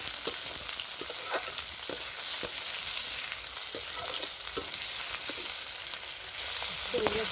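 Fish head, crushed garlic and onion fry in a pan with a dense, steady sizzle that runs throughout, broken by small pops and light stirring clicks, with no talk.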